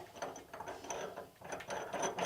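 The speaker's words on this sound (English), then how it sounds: "So the bolt will get threaded in, and then you place your nut and washer on top" A bolt is threaded into a threaded metal bracket while installing a Watertech waterjet cutting machine, giving a close, steady run of fast ratcheting, gear-like clicks that keeps going with brief dips.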